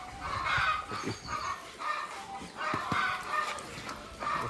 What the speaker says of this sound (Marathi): त्या कोंबडीने अंडी घातले त्यामुळे कोंबड्या ओरडायलीच